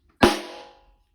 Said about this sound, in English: It's called a rim shot.